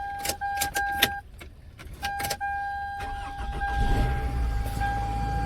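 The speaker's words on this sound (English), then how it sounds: "Car starts up." Warning chimes beep from a 2004 Toyota Camry with a key in the ignition, a few clicks follow, then the starter cranks and the engine catches into a low steady idle.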